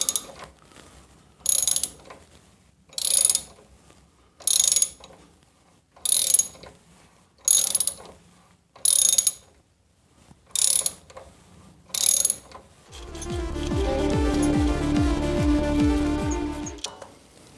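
A thread repair tap turns in the stripped spark plug hole of an engine, giving a series of short, sharp ratcheting bursts at a steady pace, then a longer dense mechanical clatter with a low rumble at the end.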